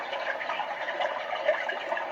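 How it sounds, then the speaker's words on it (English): Steady brook sound from a white noise machine, a continuous babbling water hiss that stays even and moderately loud for the whole stretch, with no talking over it. "Brook. A brook."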